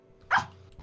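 A single short dog bark in the video game Trouble in Terrorist Town, sharp and fairly close over a faint steady hum.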